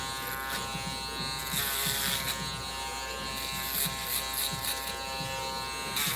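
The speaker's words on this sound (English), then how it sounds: "we're gonna use the XC shaver now" XC electric shaver buzzing as it cuts hair in a self-cut fade, a close steady motor whine with rising scratchy bursts as the blades pass through hair, briefly pausing early on.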